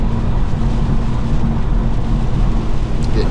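Heavy rain beats on a 2016 BMW 340i M-Sport while it is driven, a loud, dense hiss over a low road rumble, steady throughout with no voices.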